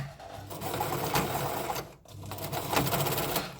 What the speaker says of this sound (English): I'm literally just going to be stitching in circles